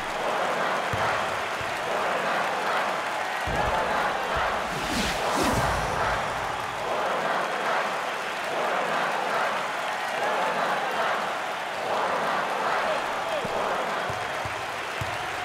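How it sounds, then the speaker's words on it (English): A Big XII college basketball tournament crowd at the Oklahoma vs TCU game roars and applauds in a dense, sustained wash of sound, with a commentator talking over it. "Listen to that reaction by the crowd."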